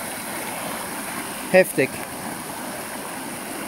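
Rushing stream of water pouring down a steep slope, a constant roaring wash close by, briefly interrupted by a single spoken word.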